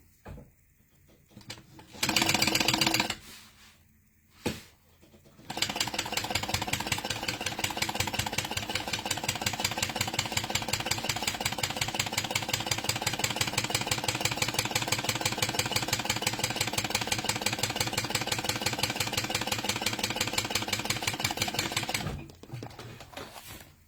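Sewing machine stitching bag hardware, a steady fast mechanical hum of rapid needle strokes running for long stretches after a couple of short starts, close and continuous.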